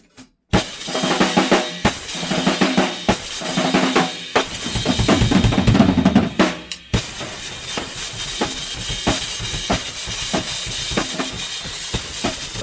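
An acoustic drum kit is played hard and close, with sharp cymbal and snare hits, a dense busy groove, and a brief drop before the beat picks up again.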